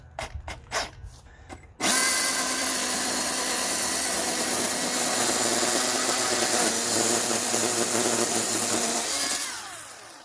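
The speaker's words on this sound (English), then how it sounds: "that's when I'm going to attack it with my chainsaw" After a few short knocks, a chainsaw roars to life cutting the roots of a freshly cut tree stump, running loud and close for several seconds, then winds down.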